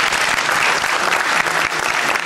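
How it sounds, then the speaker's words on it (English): Audience at a charity event applauding the artists, a loud, dense burst of clapping that fills the room and stays strong with slight swells, no speech over it. "So let's give the artists another round of applause"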